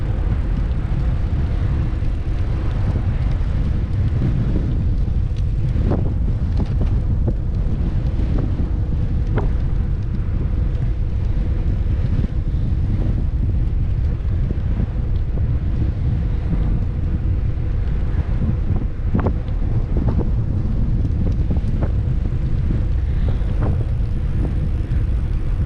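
Strong, constant wind buffeting a microphone outdoors on the Shark Valley bike trail in the Everglades, a loud low rumble filling the whole clip with no other sound standing out.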